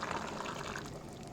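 Water poured from a glass into a pressure cooker while making an aloo, carrot and methi dish, a brief steady splashing stream heard close up with no talk.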